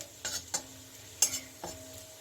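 Garlic frying in a pan, stirred now and then: a few distinct scraping knocks over a faint steady sizzle, close and fairly quiet.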